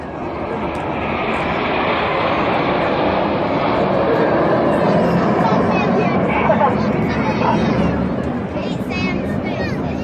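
Red Arrows display jets roar past at the Herne Bay airshow, a loud, sustained engine rumble that swells and holds for several seconds while a commentator talks over the crowd.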